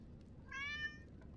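A pet cat gives a single clear, drawn-out meow close by, faint and alone against quiet room noise.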